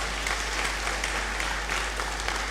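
Sustained applause from a large audience at a university congregation ceremony, dense steady clapping filling the hall at an even level throughout.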